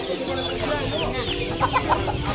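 Native country chickens at a village market cluck in quick, close bursts, several birds overlapping over a busy crowd murmur.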